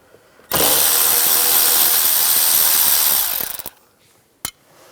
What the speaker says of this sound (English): Using a T15, we'll take those screws out.